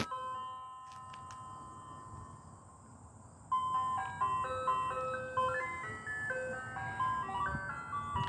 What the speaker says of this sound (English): Hate that ice cream truck music, man.